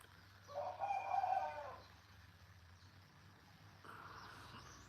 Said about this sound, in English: calm these chickens down.